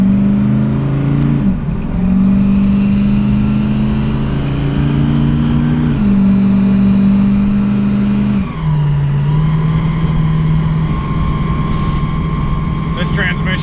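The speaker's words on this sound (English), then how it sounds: "we are driving the Mustang from the storage unit back to my house" A Ford Mustang drives along a road in cold weather, its engine droning loudly and shifting pitch through gear changes, heard steadily from inside the car.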